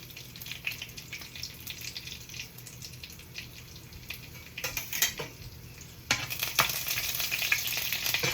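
Mustard seeds, fennel, cumin and dried red chilies frying in hot oil, a close crackling sizzle with scattered pops and utensil clinks that grows louder near the end, no voices.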